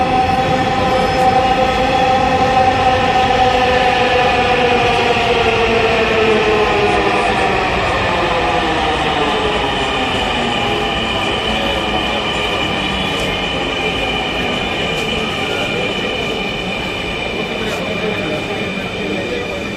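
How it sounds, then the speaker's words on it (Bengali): A Dhaka metro rail train pulls into the station with a loud, sustained electric whine whose tones slide and bend as it slows, over a constant rumble of wheels that lasts the full twenty seconds. "মেট্রো রেল চলে আসতেছে"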